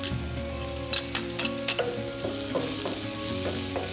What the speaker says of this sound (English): When your leeks are nice and softened and they're just starting to brown, we're going to throw in some minced garlic.